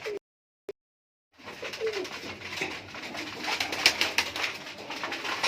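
Pigeons coo in a loft of high-flying Rampuri and teddy breed birds, a steady, fairly close murmur of overlapping coos and rustles after a brief near-silent start, with no talk.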